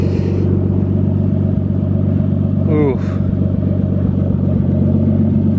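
Nissan cars, a Skyline and a Z, cruise together with a steady low engine rumble throughout, a brief passing whine partway through, and a voice briefly exclaiming.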